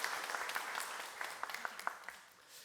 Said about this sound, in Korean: 자, 우리 잘 먹겠습니다 하면서 감사하면서 박수 들어가세요.